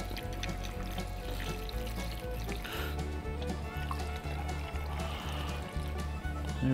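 About 1.5 litres of soup poured over chicken and rosemary potatoes for the grill, a soft continuous pouring and splashing of liquid close by, with a low rhythmic hum running underneath.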